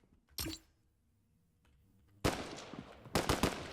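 Gunfire in the video game Fortnite: one sharp shot, a quiet gap, then a dense burst of rapid firing with several loud peaks, heard alone without talk.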